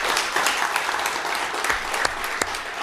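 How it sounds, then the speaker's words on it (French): An audience applauds on a live radio show, dense steady clapping throughout with a few sharper, louder claps standing out near the end. "On applaudit bien fort Alain Ginesté"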